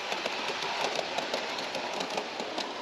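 A miniature model train runs through a model village with a steady, busy mechanical whir and faint rhythmic clicking of small wheels, close and continuous with no one talking.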